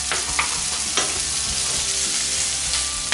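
Onions simmering and sizzling in a pan for shakshuka, a constant hissing fry with a few sharp stirring clicks, close up and without any talk.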